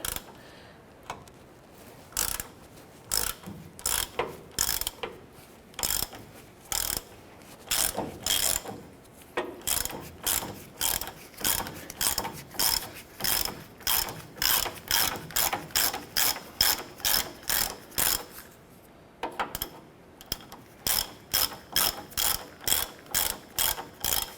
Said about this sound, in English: use our 17mm socket with our wrench. I'm going to loosen and remove this nut.